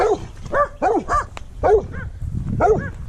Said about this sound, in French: il y a un chien, vieux